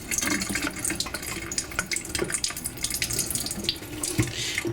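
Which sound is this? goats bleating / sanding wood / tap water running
tap water running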